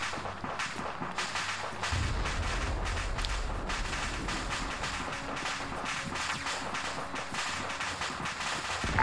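Rapid bursts of MP40 submachine gun fire in the World War 2 setting of Arma 3, cracking over a dense, noisy battlefield backdrop with low rumbling booms, continuous for several seconds.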